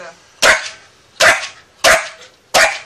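A dog barks while being weighed, four sharp, loud, close barks spaced evenly about a second apart with quiet gaps between.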